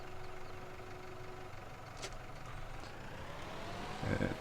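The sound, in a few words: tractor reversing in a farming video game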